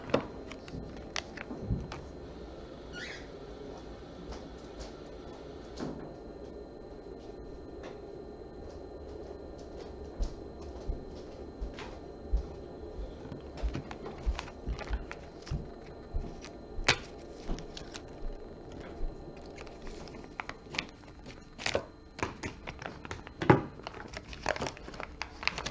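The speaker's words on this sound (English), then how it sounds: "It's actually been heat sealed, so I'll grab some scissors." Scissors snip through a heat-sealed plastic pouch of small parts, giving scattered close crinkling and sharp cutting clicks over about 25 seconds, with faint rustling between the cuts.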